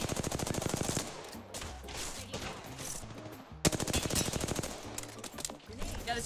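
Rapid automatic weapon fire in the video game Apex Legends comes in two loud, rhythmic bursts separated by a quieter stretch of distant shots, with a little talk in the background.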